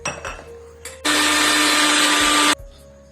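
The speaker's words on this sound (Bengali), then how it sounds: "দশ মিনিট পর ভালো করে জল ঝরিয়ে সয়াবিনটি আমি মিক্সিতে ভালো করে পেস্ট করে নেব।" A mixer grinder whirs loudly for about a second and a half as it blends drained, soaked soybean into paste, starting and stopping abruptly between quieter handling noises.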